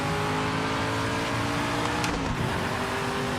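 Car engine in a racing video game, a continuous droning rev with a brief higher whine partway through, steady and moderately loud with no talk.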